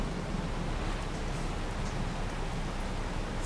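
Steady rain in the farming game Farming Simulator 22, a dense even hiss of falling drops at constant loudness with no voices.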